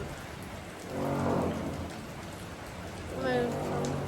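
Steady rain falls outside with an even, close patter, while a voice talks quietly over it in two short stretches.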